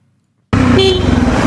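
A loud single car horn blast, sudden and close, held for about a second after near silence.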